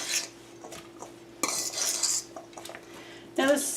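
A utensil scrapes and clinks against a bowl while tuna salad is stirred, in uneven bursts, close by, with no voices.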